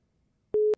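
A telephone line signal sounds as a call-in line is opened: a steady single-pitch tone holds for about a fifth of a second between two short bursts, then cuts off just as another sound starts.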